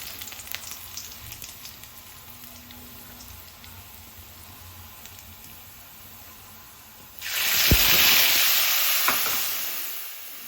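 Tempering spices, including ginger and red chillies, hit hot oil at about seven seconds, bursting into a loud, crackling sizzle that stays strong and slowly eases off, after quieter kitchen background.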